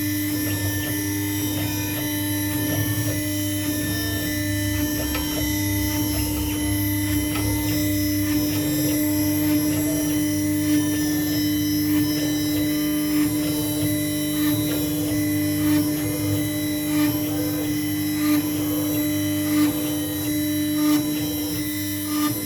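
A CNC router spindle runs steadily under load with a constant tonal whine and hum, while faint cutting rasps and ticks come and go throughout the long, even drone.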